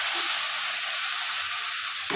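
Spices with mustard paste stir and fry in a hot pan, giving a loud, continuous close-up sizzle with no voices.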